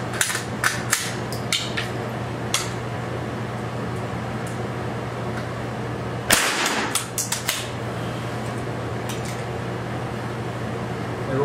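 Rifle shots fired at a target on a shooting range, with a sharp loud crack near six seconds and several smaller impulsive pops scattered through the clip over a steady hum.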